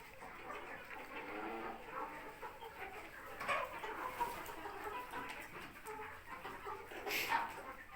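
Chickens cluck softly at a distance amid faint outdoor background noise, with occasional brighter calls standing out.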